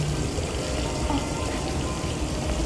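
Water gushing and running out steadily in Detroit: Become Human, a continuous broadband rush with no voices, close and moderately loud throughout.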